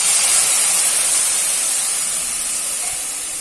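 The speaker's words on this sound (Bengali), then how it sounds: "পরিমাণ মতো জল দিয়ে দিচ্ছি।" Water poured into a hot pan while cooking egg posto curry: a loud, close burst of hissing steam and bubbling that gradually fades over a few seconds, with no voices.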